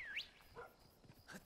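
Dog barking in the video game Monster Hunter Rise, a few short, high yelps and barks within a second and a half, fairly faint against the game's background sound.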